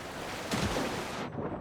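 Steady broadband roar of a waterfall in the fantasy video game Avowed, a continuous rushing wash of falling water that swells briefly midway and then thins, with no talk over it.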